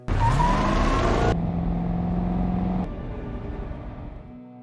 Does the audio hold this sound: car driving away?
yes